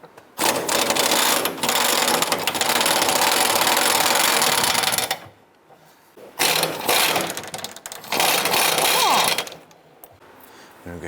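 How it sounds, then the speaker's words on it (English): Power tool removing 15mm bolts from the gas tank of a 2005-2007 Jeep Liberty: loud, steady mechanical whirring in long bursts with brief pauses between runs, close up. "In the rear, we want to go ahead and remove these 15mm bolts."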